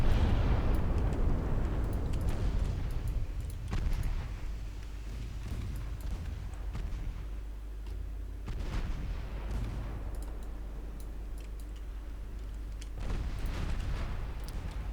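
Main guns of a warship firing in the Ultimate Admiral Dreadnoughts naval battle game, deep booming salvos every few seconds that roll into low rumbles against a constant heavy background drone.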